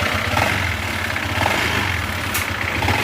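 Close, steady idle of a Honda ADV160 scooter engine with a rattling, ticking undertone, the low pulsing hum continuous throughout and an electric fan whirring in the background.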